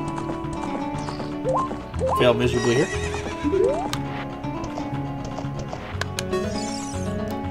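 Horse neighs and clip-clopping hooves from The Legend of Zelda: Ocarina of Time, a whinny rising over steady galloping with game music while someone talks over it.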